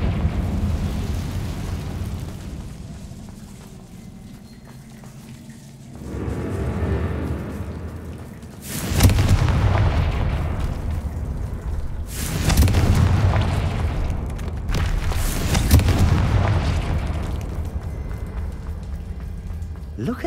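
Confringo blasting spell explosions in Hogwarts Legacy boom in several loud bursts with crackling debris, spaced a few seconds apart over a low rumbling background.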